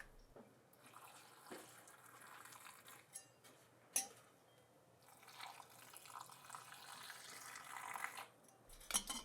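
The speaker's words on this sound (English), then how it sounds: "you're going to ladle the hot liquid into the jars to cover the beans" Hot cooking liquid ladled into glass canning jars of pinto beans, quiet splashing and trickling with occasional clinks of the ladle against glass, close and soft throughout.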